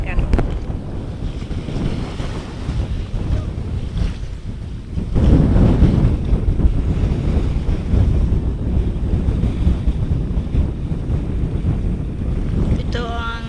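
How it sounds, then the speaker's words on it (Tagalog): Strong wind buffets the microphone over rough floodwater that has turned farmland into sea in Pangil, with waves surging and crashing loudly and continuously throughout. "Ang lakas ng alon, grabe."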